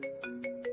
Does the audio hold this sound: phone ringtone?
yes